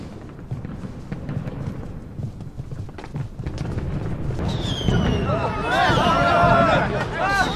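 Fireworks going off outdoors at a lively night celebration, with whistling rising streaks and crackling bursts growing louder toward the end over a constant hubbub of crowd babble and nearby voices.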